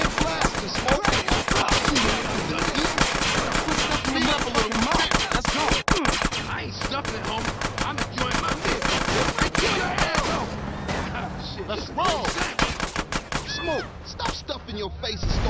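Rapid drive-by gunfire in GTA San Andreas, dense bursts of automatic shots and crackling fire filling the scene almost nonstop, loud and close, with brief lulls and shouted game voices mixed in.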